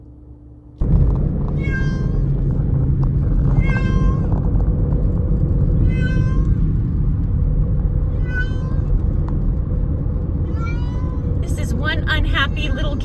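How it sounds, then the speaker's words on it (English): A cat gives repeated loud, unhappy meows at the vet, about five drawn-out cries spaced a couple of seconds apart over a steady low rumble of engine noise, with a final harsher yowl. "One unhappy little cat. Do you hear this guy?"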